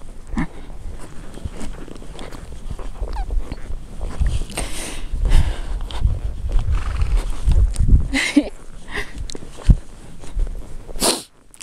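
A horse walks under a rider through a snowy forest, its hooves giving a soft, uneven clip-clop with an occasional snort, close by and fairly loud.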